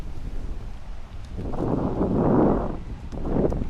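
Wind gusts across the microphone on a morning mountain hike in Hawaii, a low rumbling roar that swells in the middle and eases off, with no voices.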